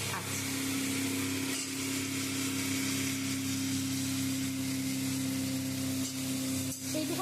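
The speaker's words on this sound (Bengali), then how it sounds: "এবার আস্তে আস্তে লাউ দিয়ে দেবো।" Bottle gourd pieces dropped into a hot kadai for a lau chingri curry with ground turmeric give off a steady, close sizzle that runs without break, with a low hum beneath it.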